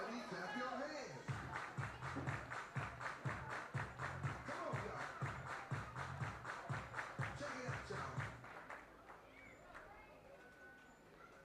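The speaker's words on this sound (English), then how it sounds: "Everybody clap your hands." Rhythmic group clapping from a baseball crowd at a Chiefs vs. Flash game, about a dozen steady unison claps over several seconds, with voices talking over it before the claps fade out.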